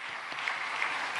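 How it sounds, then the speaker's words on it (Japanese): Audience applause welcoming a missionary at a church worship service, a dense, steady wash of clapping from a crowd that fills the short stretch at an even level. "席からお立ちになるとき、温かい拍手で歓迎してください。"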